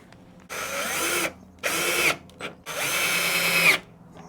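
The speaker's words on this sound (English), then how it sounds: "it's getting screwed in really nice and tight" A power drill drives screws into an angle iron strip in three loud whirring bursts separated by short pauses, with a brief blip between the second and third run and the pitch dropping as each screw tightens.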